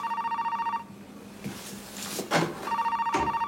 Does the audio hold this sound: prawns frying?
no